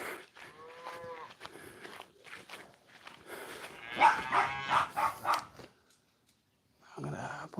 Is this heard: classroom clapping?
no